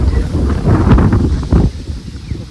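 Gusty wind rushes across a pearl millet field and buffets the microphone in uneven, loud surges, easing toward the end, with no voices.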